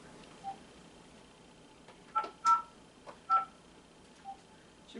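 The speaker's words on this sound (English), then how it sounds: "Dial your number" Telephone keypad tones as a number is dialed: a few short, quiet beeps in an irregular sequence, faint and close, over light room noise with no talk.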